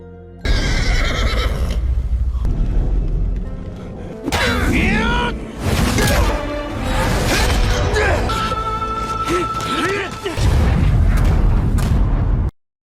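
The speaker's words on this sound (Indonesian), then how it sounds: "pasukan Siyu yang tersisa pun segera meledakkan diri untuk bisa menghancurkan menara tersebut" Remaining soldiers blow themselves up to destroy a siege tower attacking a fortress in an animated battle: loud, booming explosions come in several bursts, mixed with horses neighing and dense battle noise, before cutting to silence.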